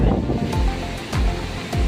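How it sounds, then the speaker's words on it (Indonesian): A fast-flowing river in Mamasa, West Sulawesi, rushing loudly and steadily close by, with gusts of wind buffeting the microphone throughout. "sungai ada dan air lumayan deras"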